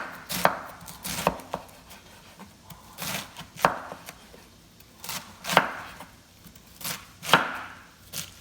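Cabbage is chopped with a sharp knife on a board in a series of crisp, fairly close chops, some falling in quick pairs and others spaced apart, with no talking.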